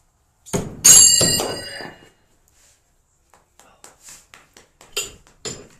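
A thrown knife strikes hard wood with a loud metallic clang and ringing thunk, followed by quieter clatters and knocks as it drops, with voices faintly in the background.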